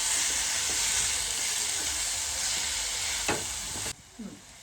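Tomato is stirred into paneer masala frying in a pan, giving a strong, even sizzle with a single scrape near the end before the hiss drops away to quieter clinks.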